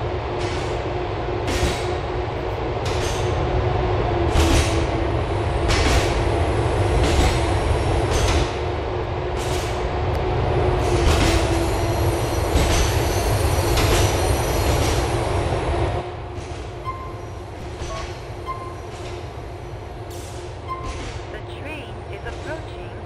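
A subway train on the Algonquin Outer Line in the game Grand Theft Auto IV rolls along the rails with a loud, continuous rumble, rhythmic clacks and high wheel squeal, easing slightly toward the end.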